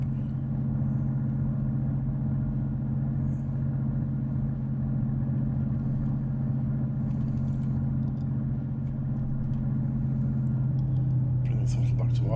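Spitfire Mk IXc engine starting from cold and dark in a flight simulator, settling into a steady low rumbling drone with someone talking over it.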